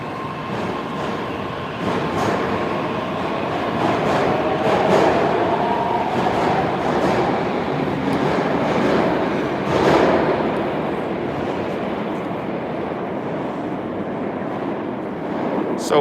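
A St Petersburg metro Red Line train in a deep underground station, heard as a steady rumbling roar of wheels and motors with brief surges and faint clatter, continuous and fairly loud throughout.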